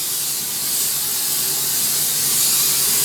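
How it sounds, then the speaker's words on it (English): Steady aerosol spray hissing continuously for about three seconds, close and fairly loud, with no pauses. "grab this spray, shake it up,"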